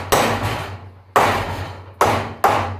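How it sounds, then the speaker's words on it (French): A hammer taps bolts into a metal plate that serves as a washer while building heavy-duty truck ramps: four loud, sharp metallic strikes, each ringing out and decaying, unevenly spaced and heard alone. "Un petit coup de marteau chacun."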